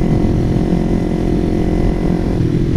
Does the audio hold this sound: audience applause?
no